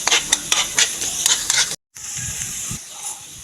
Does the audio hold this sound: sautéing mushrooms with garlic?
yes